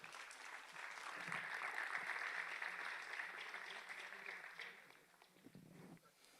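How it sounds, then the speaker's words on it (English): Applause from a seated audience at a 20th-anniversary establishment day function for a fitness sciences school, steady clapping that fades toward the end, fairly quiet and distant in a hall. "I want you all to give a huge round of applause for yourself sitting right here."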